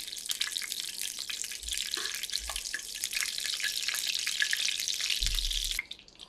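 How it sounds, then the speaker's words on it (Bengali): Two spoons of ghee sizzle in a pan for egg shashranga, giving a bright, continuous crackling hiss with a few soft low knocks, close and steady before it cuts off near the end. "আমি এখানে 2 চামচ ঘি দিয়ে দিচ্ছি"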